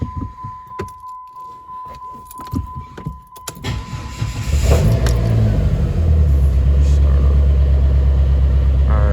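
Keys jangle and clicks sound before a Dodge SRT-4 engine cranks and fires up, settling into a loud, rumbling exhaust idle.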